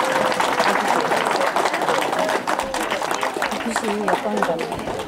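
Continuous applause from guests congratulating the bride and groom at a traditional Korean wedding ceremony, mixed with nearby voices talking throughout.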